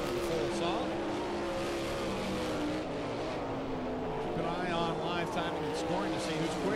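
Race cars run a dirt track at Ohsweken Speedway, their engines a loud, continuous roar with rising and falling pitch as the pack runs close together, under steady excited commentary.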